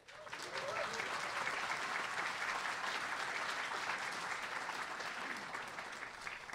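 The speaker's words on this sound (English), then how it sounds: "let's give a round of applause for Mr." A ministry event audience applauds the guest speaker with continuous, even clapping, rather quiet and distant-sounding, holding steady throughout.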